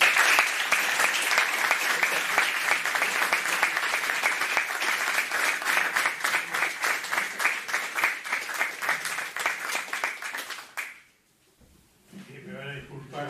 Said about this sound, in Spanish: un fuerte aplauso al padre Alfredo Sáenz